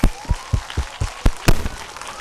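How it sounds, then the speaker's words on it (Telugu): Quick, rhythmic handclaps from a group applauding the winner of a round in a school game, sharp, evenly spaced bursts lasting about two seconds. "big clap"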